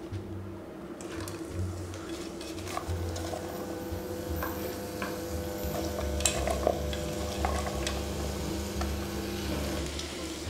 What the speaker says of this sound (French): Je fais revenir tout ça pendant 3 minutes à peu près.